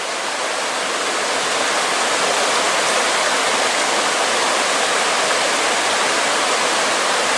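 A river in the wild Aveyron countryside, fast-flowing water, pours past in a loud, steady rush that fills the whole stretch with no voices.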